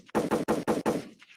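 A quick burst of five sharp gunshot sound effects in rapid succession at an album listening event, loud and close, followed by a brief fading tail.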